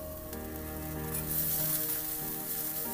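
Grated ginger and garlic frying in a pan, a soft, steady close sizzle with light crackle and a faint tonal hum beneath, no talking.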